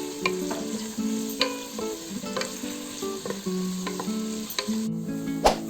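Onions sizzle steadily in a pan while being stirred until light brown, with clinks and scrapes from the spatula over a continuous, fairly quiet crackling frying sound, and no voices.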